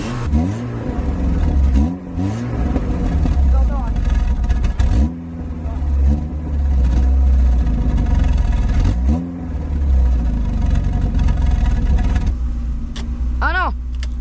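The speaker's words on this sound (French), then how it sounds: "le moteur il doit résonner sur un truc" Volkswagen Golf 2 engine idling with a steady low rumble and a few rising revs, close and loud throughout, with a brief high whistle near the end.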